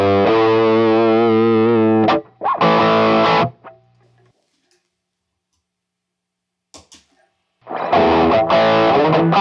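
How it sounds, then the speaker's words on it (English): Electric guitar played straight through an amp with a Rangemaster-clone treble booster pedal switched off, heard in two loud strummed and sustained bursts separated by a near-silent gap with a few faint ticks. "This is what the amp sounds like without the pedal engaged."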